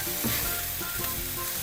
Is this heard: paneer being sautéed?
yes